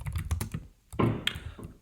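Fingers type Hello World code in the Dart language on a computer keyboard, a rapid close run of key clicks, a brief pause, then another burst of keystrokes with no voices.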